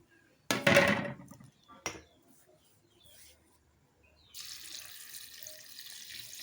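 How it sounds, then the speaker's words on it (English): Cracked palm kernels being washed in water, with a loud splashing burst near the start, a brief second splash, then a steady running-water hiss toward the end. "We are going to wash it thoroughly to get rid of all the dirt in"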